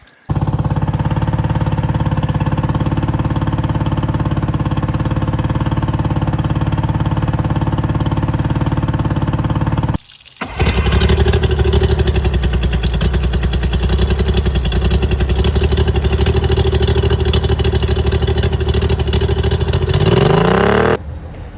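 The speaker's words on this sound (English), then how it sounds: "the engine is running great" An outboard boat engine idles loudly with a steady drone, stops briefly, then restarts and runs at higher revs with a buzzing, rattling tone before winding down.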